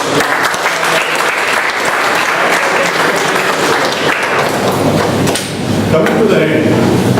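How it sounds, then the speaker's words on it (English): Toastmasters meeting audience in Bombay gives sustained applause, dense steady clapping filling the room throughout, with a brief dip near the end before it swells again. "Please give a big round of applause for Toastmasters."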